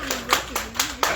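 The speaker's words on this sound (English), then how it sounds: "Give a round of applause for himself." A handful of separate hand claps ring out in a steady rhythm for Myron McGee at Lashays, with a low voice humming underneath.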